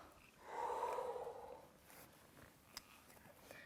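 A long breathy exhale rises and fades over about a second during a yoga forward fold toward the mat, soft and close, followed by quiet room tone with faint small clicks.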